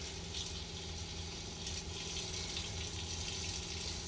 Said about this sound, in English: we're getting water currently now, hot water